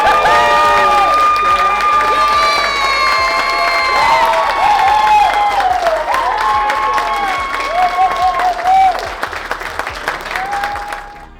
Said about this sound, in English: Got a bigger round of applause for our winner